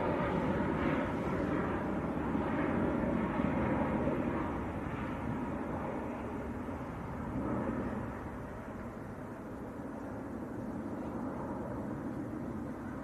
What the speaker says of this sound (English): That is a 738 MAX. Rising up into the murk.